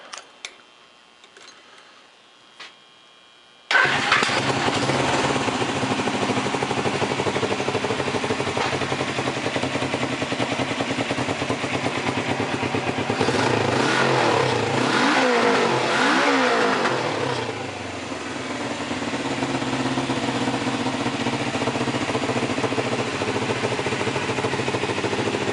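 A custom dual sport motorcycle engine, temporarily hooked up with a significant gas leak at the carburetors, turns over and catches, then runs loud and close with a rising and falling rev near the middle before settling to a steady idle.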